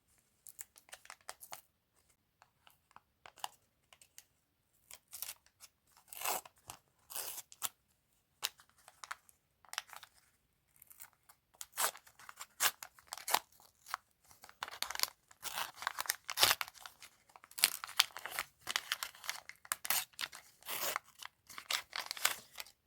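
Intermittent crinkling and tearing of a paper surprise packet, quiet and close, in short irregular bursts that grow busier toward the end.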